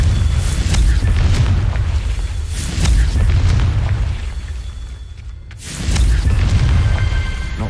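Confringo spell explosions in the Hogwarts Legacy video game, a loud continuous roar of booming blasts that briefly fades into near silence before another powerful burst erupts.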